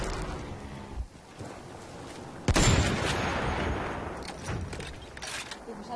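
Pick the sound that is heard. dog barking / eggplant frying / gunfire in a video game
gunfire in a video game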